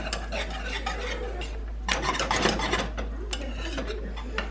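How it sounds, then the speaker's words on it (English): Spoon scraping and stirring a boiling mixture in a pot, continuous close rubbing and clinking strokes against the metal at a quick, steady rhythm, with a louder burst of scraping midway. "Let's bring it back to a boil and stir constantly"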